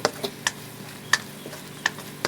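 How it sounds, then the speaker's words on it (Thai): Coconut milk stir-fried in a pan for a Thai fish-ball coconut curry, with sharp scraping clicks of a utensil striking the pan at irregular intervals over a low simmering background. "ใส่กะทิลงไปผัด"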